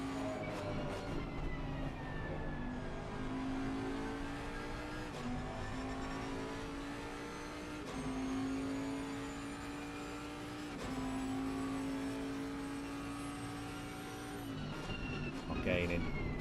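GT3 race cars, including a BMW, lap Donington Park in a racing simulation, engines whining steadily with upshift pitch steps and a sustained drone, while commentators talk throughout.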